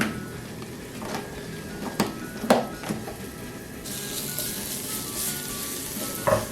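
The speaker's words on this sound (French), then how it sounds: "Ça va permettre de faire frire l'ail et de générer l'huile d'ail" Minced garlic fries in oil in a hot pan for Korean chili beef, giving a constant close crackling sizzle. Sharp scrapes and taps come as it is pushed into one corner of the pan, and the sizzle grows brighter near the end.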